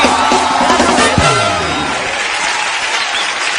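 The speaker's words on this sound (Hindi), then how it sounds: "सनी पाजी और बॉबी पाजी के लिए जोरदार तालियां हैं।" A TV studio audience applauds and cheers guests Sunny Deol and Bobby Deol, a loud, continuous wash of clapping with whoops and shouts, and a brief voice cutting through near the start.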